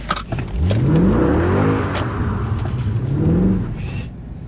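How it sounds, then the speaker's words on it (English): A Mercedes C63 engine revs loud and close at steady RPM, pitch climbing and holding, then swelling again in a second long rev. "I can record the car at full tilt but at a steady RPM"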